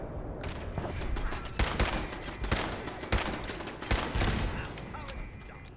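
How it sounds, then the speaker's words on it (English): Rapid automatic gunfire from a minigun turret in the video game Fallout 4, a dense rattling barrage with repeated louder bursts, continuous and fairly close throughout. "Oh, it's a minigun turret."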